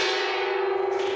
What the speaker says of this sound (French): à la fin de chaque mois, on tape dans le gong